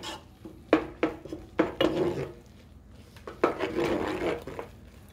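A utensil scrapes and knocks around a bowl while stirring microwave s'mores popcorn, with several sharp taps against the side and rustling, rubbing strokes in between, close and fairly quiet.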